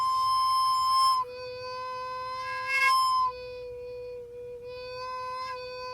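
Recorder sustaining a single tone that wavers and shifts in pitch and strength as the player's mouth moves and the breath goes unsteady, playing alone with no talk.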